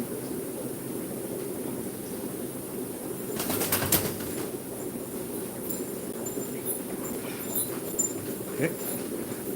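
A pet pigeon gives one brief burst of wing flapping, nearby and fairly loud, amid indoor background hum. Quiet soft sounds follow that may be cooing.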